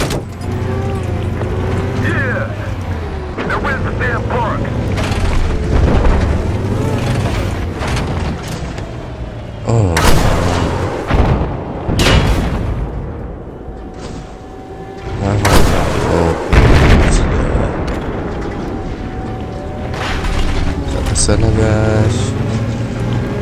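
Gunfire and explosions from a Battlefield 4 tank battle in a video game, with repeated loud booms and bursts over steady engine rumble while people talk over the action throughout.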